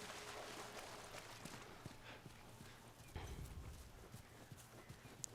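Hooves clip-clop in an irregular walking rhythm from a horse in The Last of Us video game, faint and somewhat distant beneath a soft ambient bed with no talk.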